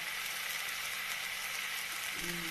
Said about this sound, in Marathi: आता टमाटर फ्राय करायला लागली